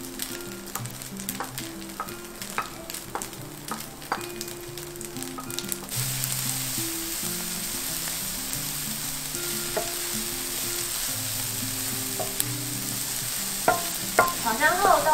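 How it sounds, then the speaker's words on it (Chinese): Old ginger and fresh shiitake mushrooms are stir-fried for a vegan dumpling filling. Clicking spatula scrapes come first, then a steady, fairly quiet sizzle with occasional taps near the end. "再放入老姜跟鲜香菇炒香"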